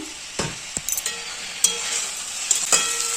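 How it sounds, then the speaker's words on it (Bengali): Boiled jackfruit and fried potatoes being stirred together in a pan, with soft sizzling under several sharp spoon knocks and scrapes against the pan, close up, with no voices. "ইঁচড়গুলো সেদ্ধ করে রাখা আর ভেজে রাখা আলুগুলো মিশিয়ে দিলাম"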